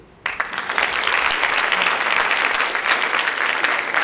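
Applause from a festival opening-ceremony audience in Athens, greeting participating schools; sustained clapping from a large crowd that bursts in abruptly and holds steady and loud.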